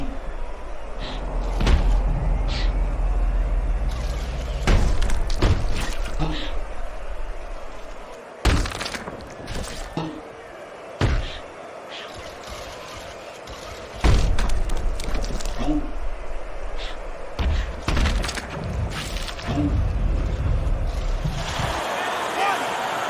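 Punches thud and crack repeatedly in the Fight Night Champion boxing video game, scattered irregularly across the span. They land over continuous crowd noise and a commentator's voice.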